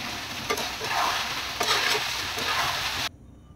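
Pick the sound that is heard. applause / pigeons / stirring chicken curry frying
stirring chicken curry frying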